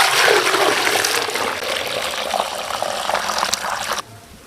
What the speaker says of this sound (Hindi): चावलों के हिसाब से पानी लगाना है।